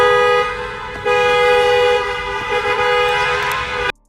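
A loud, sustained horn blares nearly nonstop, dipping briefly once before cutting off abruptly at the end.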